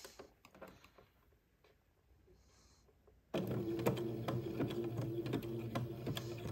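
Domestic sewing machine zigzag-stitching lace onto a bonnet, the motor starting abruptly halfway through and then running in a steady, close, whirring rhythm after a quieter stretch of faint handling noises.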